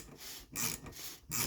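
A ratchet is run down on an Allen bit to turn the sunroof motor of a Ford F150, giving quiet, repeated rasping clicks in three short bursts, close up with no talking.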